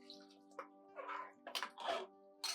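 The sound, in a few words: water poured into pressure cooker with basmati rice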